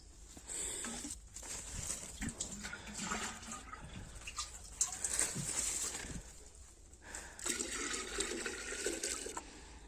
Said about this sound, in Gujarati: તો અત્યારે આપણે અહીંયા લાઈન મૂકી દીધું, હવે આનાથી પાણી પાવાનું છે